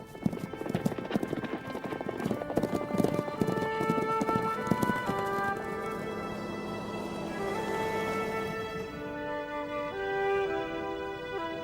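A herd of horses runs over the ground with continuous overlapping hoofbeats that stay at moderate loudness throughout and come without talk.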